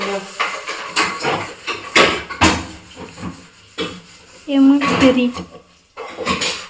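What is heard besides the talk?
washing dishes, pots and pans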